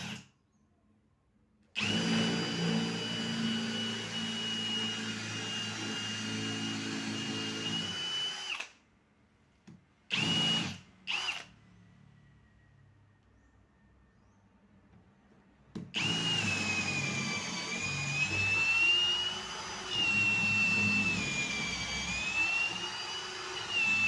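A DCA ADJZ03-13 hammer drill runs in loud, sustained whining bursts, first for about seven seconds, then a couple of brief blips, then a longer run with wavering pitch, separated by silence.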